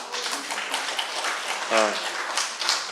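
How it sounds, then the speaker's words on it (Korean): A seated audience at a Korean prayer breakfast talk led by a fitness trainer claps in a brief, loose patter, with a voice briefly calling out over the clapping. "박수, 박수, 박수, 박수."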